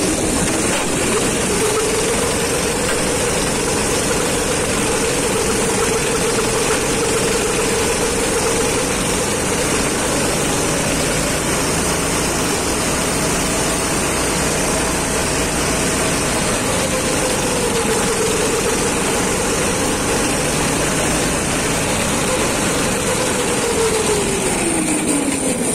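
A tuned go-kart engine labors up a steep hill at night, a continuous strained drone that rises and falls slightly in pitch, loud and unbroken for the whole stretch.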